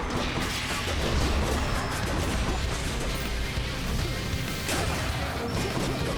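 Heavy smashing attack hits in the video game Hades, a dense barrage of loud crashing impacts and thuds layered over game music, continuous and close with no talk.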